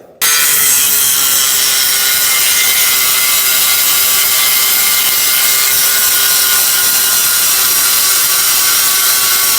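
A steady, loud abrasive grinding whine from an abrasive stripping disc on metal runs continuously throughout, with a constant high-pitched hiss and no pauses.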